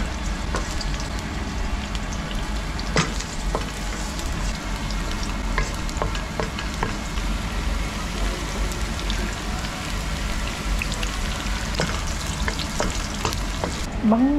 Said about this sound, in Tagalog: nag-iinit na ako ng aking mantika at igigisa ko na siya